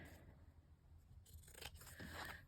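Scissors cutting paper for a handmade journal: a faint, close snipping and crisp crunching run of blade strokes, quiet and alone.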